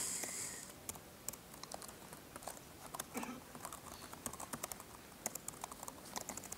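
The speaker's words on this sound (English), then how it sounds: "I can type stuff like this" Computer keyboard typing in short irregular bursts of light, close clicks, with brief pauses between runs of keys while code is entered into a Java shell session.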